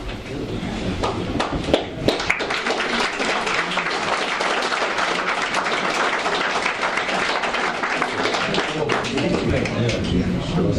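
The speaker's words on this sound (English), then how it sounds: "It's not often that councillors get a round of applause." A room full of people at a council development committee meeting applauds, dense steady clapping sustained for several seconds, loud and close, with a few voices mixed in.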